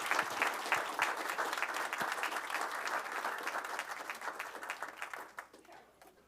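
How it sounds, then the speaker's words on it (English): Audience at a school board meeting applauding elementary school students, a dense, steady round of clapping from a roomful of people that tapers off toward the end. "I think these mathematical thinkers need a round of applause."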